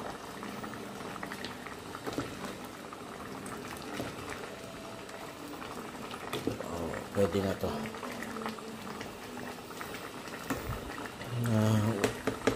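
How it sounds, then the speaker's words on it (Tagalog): A pot of glass noodles boiling with steady, busy bubbling, while a person speaks briefly over it. "Isang minutong kumukulo pa para maluto yung sutanghon."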